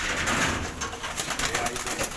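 Racing pigeons in a loft fill the air with dense, continuous cooing and rustling, a busy close-up chorus of many birds with no clear talk.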